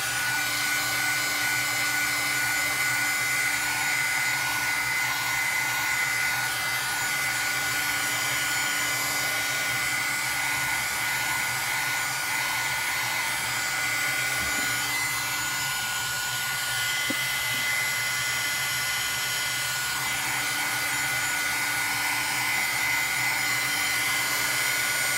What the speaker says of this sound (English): So I'll just use the heat gun for a little bit,